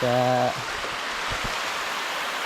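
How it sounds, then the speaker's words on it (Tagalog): Strong water flow rushes steadily across a farm after heavy rain, a constant hiss that follows a brief voice at the start. "Lakasin itong agos ng tubig."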